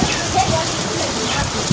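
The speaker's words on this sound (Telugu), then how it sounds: "బయట వర్షం పడుతుందండి" Steady rain patters and hisses outdoors, a dense even wash of drops with a little indoor room noise.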